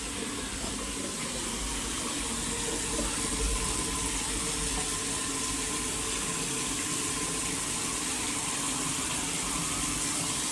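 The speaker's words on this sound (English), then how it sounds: "Let's put it on hot, make sure that comes through hot, and let's run plenty of water in it" Hot water gushes steadily from a tap into a sink during a tile-grouting job, a continuous broadband splash and rush holding at an even, fairly loud level for the whole stretch with no voices.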